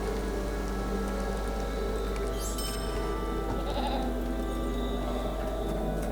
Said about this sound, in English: Using this mountain goat for a travel companion.